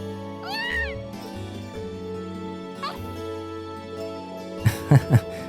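A cat meows in the video game Trails of Cold Steel. Clear rising meows come early and again near the middle, over sustained background music, and louder thumping sounds follow at the end.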